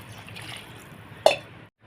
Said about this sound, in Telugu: ముక్కలు కట్ చేసుకున్న తర్వాత నల్లబడకుండా ఉండడానికి కొంచెం వాటర్లో